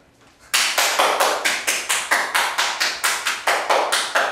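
Steady rhythmic claps from a single pair of hands ring out loud and close at the start of a comedy show, about sixteen even beats in a quick row.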